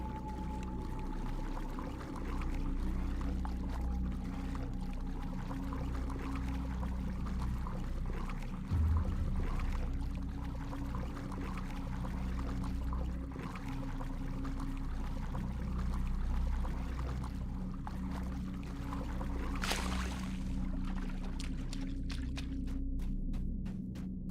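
In the fantasy game DDO, water rushes through pipes after a valve is turned, a steady, loud pouring and throbbing hum that fills the scene and runs on, with a sharp burst near the end.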